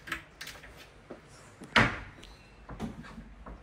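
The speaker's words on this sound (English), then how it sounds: "Open up, and I'm going to show you the closet space that you have in here." A closet door in a condo opens with a sharp wooden knock and rattle, set among softer bumps and handling noises in a quiet room.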